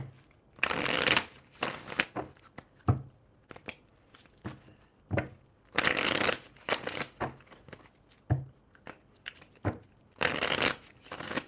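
Oracle cards being shuffled by hand in repeated bursts of riffling and flicking, each lasting about a second, separated by short pauses and a few soft taps, close and fairly quiet with no talking.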